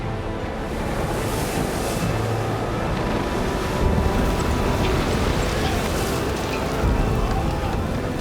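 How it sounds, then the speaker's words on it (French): Strong northeast storm wind blowing hard at sea around a boat, a dense, roaring rush of wind and surf that gusts louder now and then, continuous and close with no voices. "vent de tempête, appelé vent du nord-est, vient de l'île et il souffle très fort"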